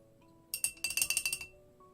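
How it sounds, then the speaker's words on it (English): A paintbrush rinsed in a glass jar gives a quick flurry of bright, close clinks as it taps and swirls against the glass, lasting about a second in otherwise quiet surroundings. "Just rinse off my brush"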